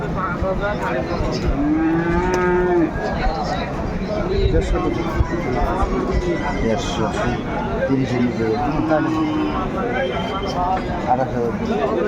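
Cows and calves moo repeatedly, loud and close, over steady crowd chatter and people talking at a busy cattle market in Aftabganj, Bangladesh.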